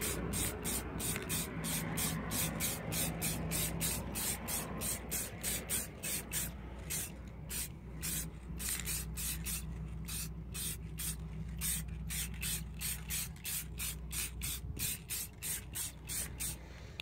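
Clear coat sprayed onto wheel rims in quick repeated hissing bursts, steady and close, running throughout with short gaps between passes and no talk.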